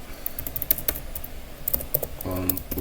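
Quick clicks and clacks of fingers typing on a computer keyboard, with a few sharper key strikes standing out among lighter presses, close and fairly quiet, with faint talk in the background.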